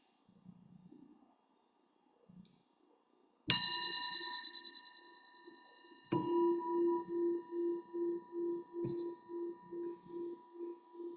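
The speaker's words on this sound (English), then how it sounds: "The bell is the invitation to bring the awareness back." A meditation bell is struck twice during a guided practice, each strike ringing out with a bright metallic onset and long, slowly pulsing sustained tones that linger and fade, following a few soft murmurs.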